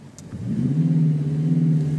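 A simulated Renault Alpine engine note produced by a Renault R-Sound Airsound Effect system, heard from inside the car with the doors closed: a low, steady engine drone that swells up in the first half second and then holds evenly.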